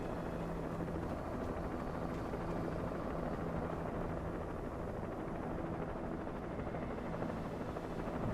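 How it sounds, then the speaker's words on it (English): A helicopter in the video game Alan Wake Remastered thrums with a steady, faint rotor wash, continuous and distant throughout with no voices. "Helicopter?"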